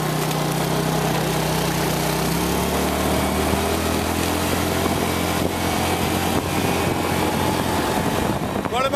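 Moped engine running continuously on a road in Pai, Thailand, a loud buzzing drone that shifts pitch slightly as it revs, close and steady throughout.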